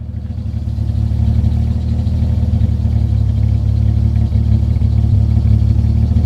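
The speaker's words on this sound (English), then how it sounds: "obviously the idle doesn't sound as good as the 6s just because it's not performance and it's not turboed and all that other sort of stuff, but it sounds pretty decent" A straight-piped BMW E28 idles close and loud, with a steady, deep, rumbling exhaust drone that holds even throughout, and no voices.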